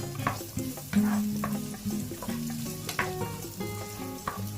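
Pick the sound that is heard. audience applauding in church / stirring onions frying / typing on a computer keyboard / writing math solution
stirring onions frying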